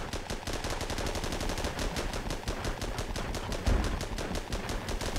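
Rapid automatic gunfire from tanks in the Armored Battle game, a dense, loud stream of evenly spaced shots lasting throughout with one heavier low thump partway through, no voices.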